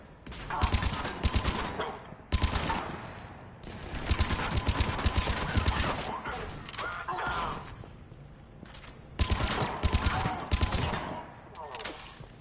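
Sustained automatic gunfire fills a firefight in Mass Effect 3's Omega DLC, with long rattling bursts separated by brief gaps, loud and close, mixed with clanking mechanical noise.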